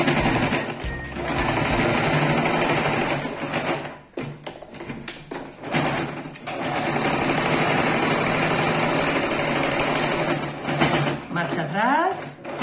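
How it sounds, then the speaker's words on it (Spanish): Sewing machine stitching denim jean pockets, a loud, close, fast mechanical rattle that runs steadily with brief pauses, while someone talks over it in Spanish. "Voy a coserlo por la misma parte, por la misma donde estaba el pespunte de antes."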